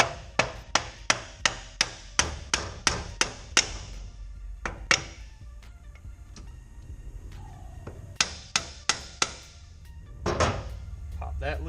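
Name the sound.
rubber mallet knocking a Mustang T5 transmission shifter loose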